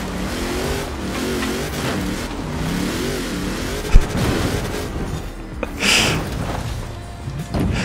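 A Jeep CJ5 Renegade with a 7-litre V8 tuned past 1300 hp roars loudly in Forza Horizon 4, the engine note rising and falling through repeated revs and gear changes.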